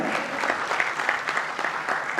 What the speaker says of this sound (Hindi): ईजान के लिए जोरदार तालियां